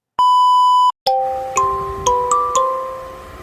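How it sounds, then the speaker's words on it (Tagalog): A morning alarm sounds: one long steady electronic beep, then a short series of bright chiming tones in a descending and rising pattern, loud and close, alone without speech. "bigla na ako nagising at tumunog na yung alarm"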